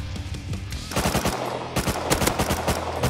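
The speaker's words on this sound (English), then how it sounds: "I'm getting shot up" Rapid automatic gunfire in a video game hammers close and loud in tight bursts, a brief stutter then a sustained volley of evenly spaced shots over about three seconds.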